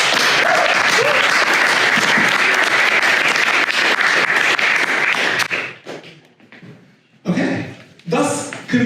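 An audience at a hackathon demo session breaks into loud, sustained applause that lasts several seconds, then thins out to scattered claps and a few voices talking nearby.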